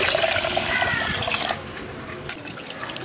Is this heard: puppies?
no